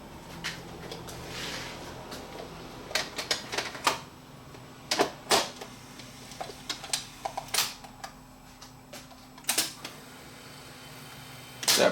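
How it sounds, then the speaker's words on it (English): The tape-loading mechanism of a vintage Sony SL7200 Betamax VCR, heard up close as a run of irregular mechanical clicks, clunks and ratchety snaps over a faint motor hum, with the densest activity in the middle and a final clunk at the end. "Let's actually load a tape"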